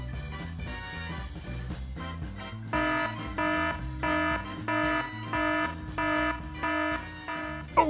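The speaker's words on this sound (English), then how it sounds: "Oh, the buzzer went off." A game show buzzer repeatedly blares in bursts of harsh, pulsing tones over a busy musical background, loud and close.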